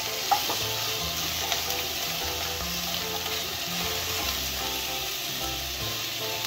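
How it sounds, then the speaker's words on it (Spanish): Chili pepper and onion fry in a hot pan, a steady close sizzle with soft stirring scrapes, low and even throughout, no voices. "lo primero que voy a echar es echar el ají y la cebolla"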